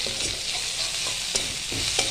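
Chopped onion fries in hot oil in a wok with garlic and spices, a steady close sizzle punctuated by regular scrapes and clinks as a spatula stirs it roughly every half second.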